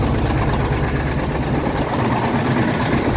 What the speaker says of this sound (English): There we go, she's a chugging this morning.